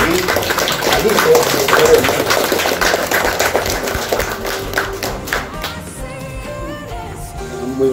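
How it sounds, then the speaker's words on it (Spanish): A crowd at a memorial gathering with a band claps to welcome the son, a fairly loud burst of clapping and taps that fades out under speech near the end. "fuerte los aplausos para recibir al hijo"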